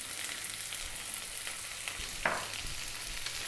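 Onion frying in a pan over above-medium heat for vegetable biryani: a soft, even sizzle with one sharp utensil clink partway through.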